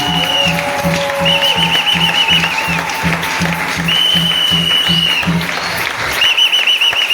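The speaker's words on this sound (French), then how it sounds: "Est-ce qu'on peut encore acclamer très fort pour notre Dieu?" A church congregation at a thanksgiving service claps loudly and steadily in rhythmic unison, with cheers and whoops rising over the applause.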